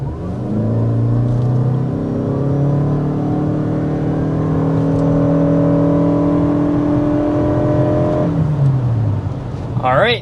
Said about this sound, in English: we want to go ahead and start by giving you a hard acceleration